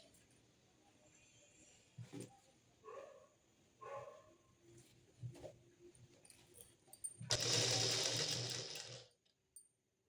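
A sewing machine stitches a plain blouse in one loud, steady run of about two seconds near the end, after a few scattered soft handling knocks.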